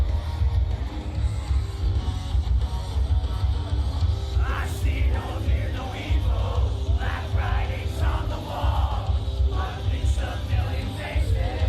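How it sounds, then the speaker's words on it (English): Crowd at the Sonic Expo, a dense, loud hall of cheering and yelling voices that rises in several bursts of shouts over a constant murmur. "the crowd definitely got into it"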